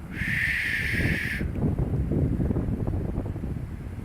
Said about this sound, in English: I don't know if you can hear that noise of the wind.